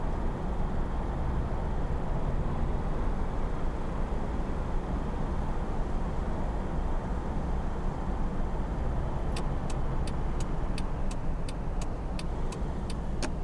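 A taxi's engine in the Taxi Life driving game holds a steady, loud roar with no talking, and a rapid series of sharp ticking clicks comes in near the end.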